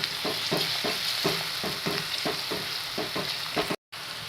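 Spiced tempering being stirred and mixed in a pan for a Marathi pavta and drumstick amti, a dense continuous sizzle with a regular rhythm of spoon scrapes about every half second, loud and close, cut by a brief silent gap near the end.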